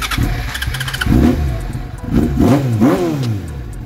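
A 2005 Yamaha R6 motorcycle engine starts up and is revved, its pitch climbing and falling in a couple of quick throttle blips, loud and close with no talking.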